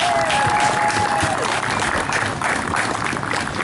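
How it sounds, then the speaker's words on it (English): An audience at a trail link-up event claps in sustained applause, a dense, loud wash of hands that holds steady for the whole stretch with a faint murmur of crowd beneath. "let's give her a round of applause"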